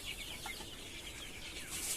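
Chicks in a winter brooder, faint high chirps and soft clucking sounds over a quiet background for a couple of seconds.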